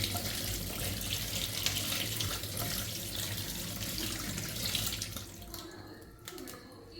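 Tap water runs steadily into a sink while a crab is washed under it, a continuous close splashing stream that thins out slightly near the end.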